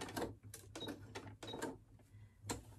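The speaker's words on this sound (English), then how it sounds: "Down to the corner, leave your needle down, lift the presser foot, twist around, put it back down again and go along the bottom." A sewing machine stitches along the bottom of a fabric shopping bag, with short quiet rhythmic bursts of mechanical clatter separated by brief pauses, close but faint.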